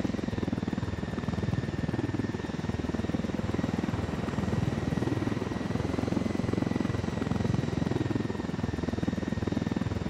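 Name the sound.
helicopter in a video game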